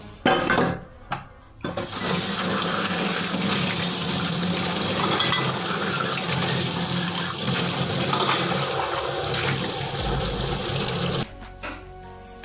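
Tap water runs in a steady, unbroken gush for about ten seconds while dishes are washed at a home kitchen sink in Mumbai, then cuts off abruptly.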